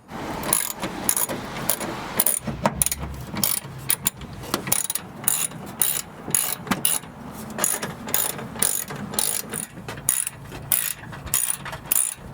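A ratchet wrench backing out the bolts on the undercover of a Scion tC: rapid clicking pawl strokes in quick bursts, close and crisp, with brief metallic pauses between runs and no speech.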